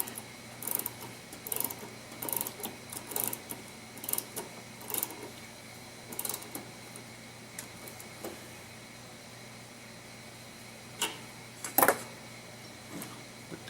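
An HVAC service valve is back seated with a ratcheting tool, a quiet series of short clicking ratchet bursts in irregular rhythm, closing with a sharper metallic click.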